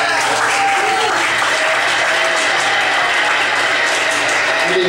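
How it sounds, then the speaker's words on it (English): An audience at a 30th anniversary stage show in 1982 gives sustained, loud applause, a dense steady wash of clapping that fills the room from start to finish. "give her a round of applause, ladies and gentlemen."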